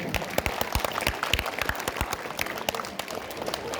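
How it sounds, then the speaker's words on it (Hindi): Audience at an annual school day celebration clapping, with sharp individual claps standing out near and uneven over a looser scatter of hands. "प्लीज अपने लिए आप लोग तालियां बजाइए"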